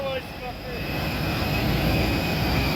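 Steady broadband roar of an airliner cabin during the flight from Budapest to Glasgow, engine and air noise holding continuous and fairly loud throughout with no voices.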